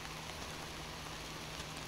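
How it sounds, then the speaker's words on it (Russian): Rain falls steadily on a tent during a fishing trip, a dense, even hiss of drops on fabric that stays constant and fairly faint throughout, with no voices. "Ждем прекращения дождя."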